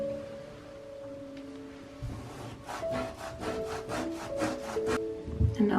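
A beauty tool scrubs wet tile grout with rapid back-and-forth rasping strokes, a quick rhythmic series of close scratchy rubs following a quieter start, with no one speaking.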